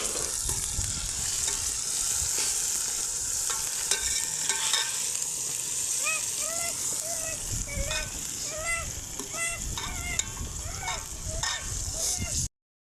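Ginger-garlic paste hits golden brown onions in a pot over a wood fire, giving a steady loud sizzle with spoon scraping and stirring clatter throughout, plus some chirpy squeaks in the background.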